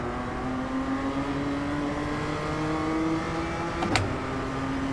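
Race car engines in the iRacing sim game hold a steady, droning whine that slowly rises in pitch as the cars accelerate, with a brief sharper burst near the end and no talking.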